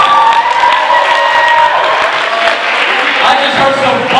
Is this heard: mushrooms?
no